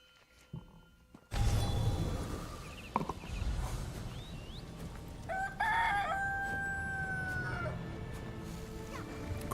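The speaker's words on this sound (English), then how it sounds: "Good morning to you too, Rooster." A rooster crows loudly and close in Elder Scrolls Online, one drawn-out cock-a-doodle-doo rising above a steady game ambience with faint birds, no talking.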